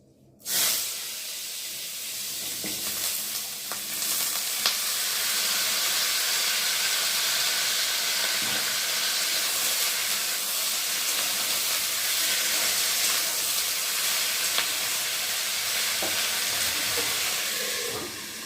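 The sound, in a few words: thin-sliced potatoes frying in hot oil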